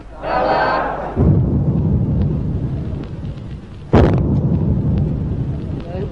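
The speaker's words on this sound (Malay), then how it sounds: "bunyi bedelan meriam" Ceremonial cannon salute at the installation of the first Yang di-Pertuan Agong in 1957, two heavy booms a few seconds apart with long rumbling echoes, preceded by a brief crowd shout.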